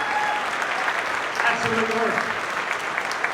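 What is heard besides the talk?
audience applause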